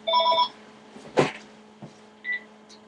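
A telephone rings with short electronic tonal trills in separate bursts, close and moderately loud, with a brief thump and rustle between the rings.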